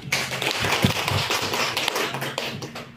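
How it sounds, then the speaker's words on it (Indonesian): An audience applauds a speaker, Bu Siti, at a teacher mentoring session, producing steady, dense clapping at moderate distance for about three seconds with no talk over it. "Mari kita kasih aplaus dulu lah"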